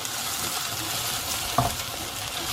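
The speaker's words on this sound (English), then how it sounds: "I'm gonna stir fry that for about a minute" Chopped onions stir-fried in a hot pan, a loud continuous close sizzle with a brief scraping stir near the middle, no talking.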